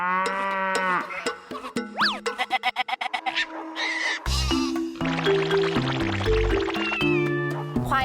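Water buffalo on a farm in Nakhon Pathom, Thailand, with cowbells clanking and tonal sound effects layered over low animal calls, busy and fairly loud throughout.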